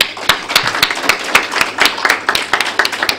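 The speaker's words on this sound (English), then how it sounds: "I would like to applaud them" Scattered clapping from a small audience at a motivational speech, individual hand claps distinct and fairly close, irregular rhythm throughout with no talking over it.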